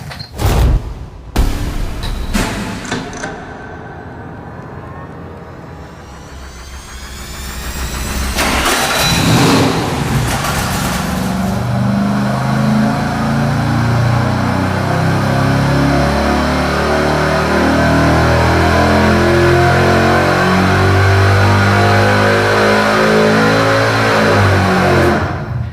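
V8 engine on a dynamometer fitted with long-tube headers, Hooker mufflers and a long extension pipe cranks and fires, then settles into a steady, loud sustained run at high revs, with no talk over it.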